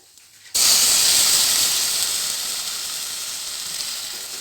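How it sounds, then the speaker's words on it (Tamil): Milk is poured into a hot pan of bread toasted in ghee, setting off a sudden loud hissing sizzle that starts sharply and then settles into a steady steamy fizz, close by with no talking. "இனி நெக்ஸ்ட்டு வந்து நம்ம இதில் வந்து பால் ஆட் பண்ணிக்கலாம்."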